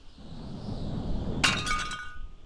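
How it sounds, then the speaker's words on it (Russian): A toilet smashes in the video game The Long Drive, a sudden bright shatter of breaking ceramic and tinkling shards about halfway through, over a low ambient hum, with no talk. "Ой, сел на унитаз, разбил."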